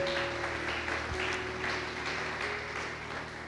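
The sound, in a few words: congregation applauding in church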